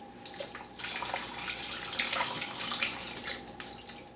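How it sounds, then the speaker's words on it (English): Liquid from a jar of olives pours off into a sink, a steady running-water splash that holds for several seconds with no talk over it. "Drain the olives."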